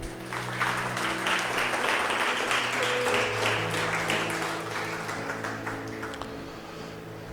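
A church congregation applauds continuously, a dense even roar of many hands clapping held for several seconds under a sustained organ-like tone.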